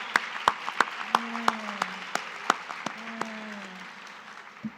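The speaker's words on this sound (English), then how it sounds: "Give yourself a big round of applause for showing up and meeting up in person again." Scattered audience clapping at a decarbonization summit, a handful of sharp, separate claps spaced out over several seconds with faint tonal sounds in the background, fairly quiet overall.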